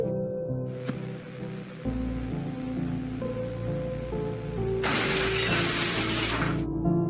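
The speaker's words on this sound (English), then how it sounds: "You can actually hear the glass shards hitting the floor." Window glass shatters loudly in a horror soundtrack, a bright burst of breaking shards scattering onto the floor for a couple of seconds over a low droning musical bed.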